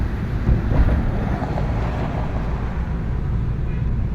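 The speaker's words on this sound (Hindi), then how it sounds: "बैराज से पानी छोड़ा हुआ है और वो देखो आप पानी क्या वेग में आ रहा है।" Fast river water released from a barrage rushes steadily at a night riverside ghat, a dense low roar mixed with gusty wind buffeting the microphone throughout.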